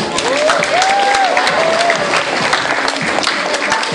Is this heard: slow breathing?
no